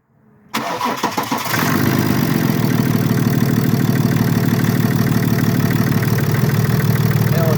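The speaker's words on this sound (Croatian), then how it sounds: "Trese, prekida, znači ima misfire." BMW N57 diesel engine with a faulty piezo injector, cranking and catching, then running loud and close with a rough, uneven idle that shakes and stumbles from a misfire.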